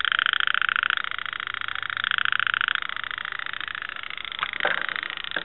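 A water-damaged car speaker in a 2007 Chevy pickup, with only the acid-eroded tweeter playing: a thin, buzzy, band-limited tone that pulses steadily, plays continuously at moderate level, and briefly crackles near the end, with no speech.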